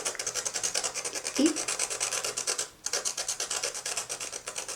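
A pastel stick tip rubbed against sandpaper to sharpen it, a steady run of close, rhythmic rasping strokes with a brief pause near the middle.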